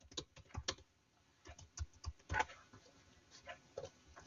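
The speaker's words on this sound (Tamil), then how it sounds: "என்னோட பாஸ்வேர்ட் நான் டைப் பண்றேன்." Someone types a password on a computer keyboard, a sparse run of soft key clicks with uneven gaps, close and quiet.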